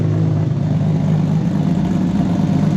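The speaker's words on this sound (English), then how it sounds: "The car's warming up." A turbocharged 1200+ hp Toyota Supra MK4 idles while warming up: a steady, even low engine hum with a slight rumble, close and continuous throughout.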